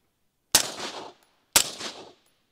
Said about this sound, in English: So I'm gonna shoot the Surefire and then the Dead Air.